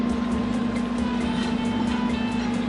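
Steady air conditioner hum in a home kitchen, a constant drone with a strong low tone running unbroken through the whole stretch, loud and close with no talk over it.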